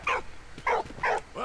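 A dog in the wartime video game Valiant Hearts gives four short, sharp barks or yips at an even, spaced rhythm, fairly close and clear.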